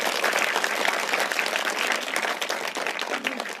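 Dense, steady applause from a school audience at a junior high school in Dehradun, many hands clapping together at once, loud and sustained for the whole stretch with no talk over it.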